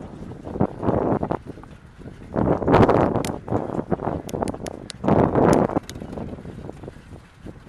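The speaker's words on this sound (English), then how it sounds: "it's probably windy" Wind buffeting a microphone on a ReTrike recumbent trike ridden on a spring day with a 15 mph northwest wind, loud low rumbling gusts rising and falling in bursts over several seconds, no talking.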